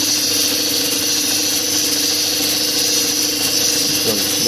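A fine polishing wheel spins against opal at a cutting bench in Yowah, giving a steady close motor whine with a constant high hiss and a faint tonal hum throughout, with no break in the sound.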